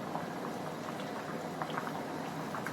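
Ghee heating in a pan gives a continuous dense sizzle and bubbling crackle, steady and close throughout with small pops, with no voices.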